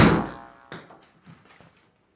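A golf tee shot struck into a home simulator setup with a Garmin R50 launch monitor: one sharp, solid thunk up front, followed by a few fainter knocks and rattles that quickly fade to quiet.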